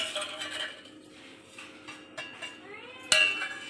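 Shrimp pakora batter is mixed by hand in a bowl, giving soft wet squelches and scattered light clinks of a utensil against the dish, ending in one sharp knock.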